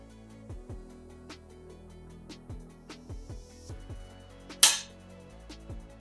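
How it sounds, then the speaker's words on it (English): A Savage Axis rifle trigger is pulled, the sear releasing the firing pin with a single sharp metallic snap near the close, amid several softer mechanical clicks and thumps of handling, with no talk. "I'm gonna pull the trigger"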